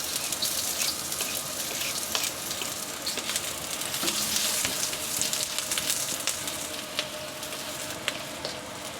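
Onions and garlic sizzle and fry steadily in a hot non-stick pan, a dense continuous crackle with small pops throughout and no talking.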